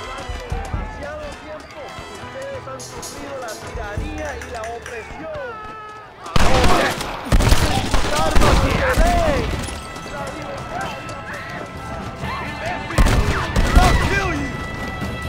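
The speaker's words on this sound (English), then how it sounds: "Okay, I have a semi-auto shotgun." Semi-auto shotgun blasts and other gunfire in the game Red Dead Redemption, loud sharp bursts clustering after a quieter stretch, mixed with footsteps, crashes and voices talking.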